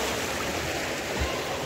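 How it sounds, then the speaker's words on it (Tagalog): A river flows with a steady, broadband rush of water, close and continuous, with no voices over it. "andito ang napakasarap ng ilog"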